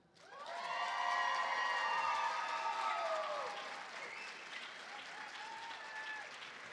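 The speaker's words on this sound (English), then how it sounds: "Let's give her a round of applause for all she has done" Applause and cheering from the audience at a nursing college pinning ceremony in Henderson, swelling quickly into loud sustained clapping with whoops and shouts, then tapering slightly while still going.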